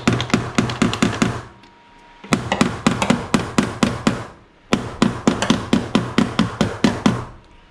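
Repeated sharp hammer strikes in a BMW E36 engine bay, in quick, steady bursts, with two short pauses between runs of blows; close and loud, no talking.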